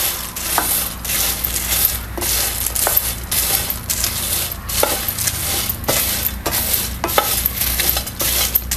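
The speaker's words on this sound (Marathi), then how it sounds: "असं कढईमध्ये घालून आपल्याला सोडायचं नाही, भांडीमध्ये सतत आहे ना असं आपल्याला हलवत राहायचं" Whole chai masala spices dry-roast in a kadhai under constant stirring, producing a steady rustling rattle with repeated sharp scrapes and clinks at an irregular rhythm, close and fairly loud, with no talking.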